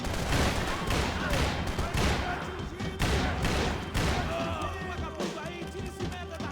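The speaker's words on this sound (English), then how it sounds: "I was actually shooting at the other guy." Rapid gunfire in Max Payne 3 comes as repeated loud bursts of shots with sharp cracks and debris, dense and close over a busy game soundscape, with some talking mixed in.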